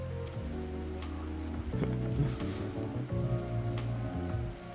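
Steady rain falls in a scene from the game Kuro no Kiseki, a soft constant patter on surfaces beneath quiet background music.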